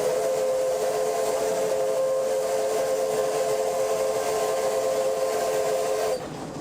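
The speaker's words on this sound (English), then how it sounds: "Until the locomotive changes direction 3 stations ahead, Gung Ling will drive in reverse." A Chinese steam locomotive running in reverse gives a loud, steady mechanical roar with a sustained whistle-like tone and hiss, continuous and close, easing slightly near the end.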